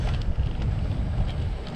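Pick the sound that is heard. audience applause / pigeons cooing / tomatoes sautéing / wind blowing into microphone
wind blowing into microphone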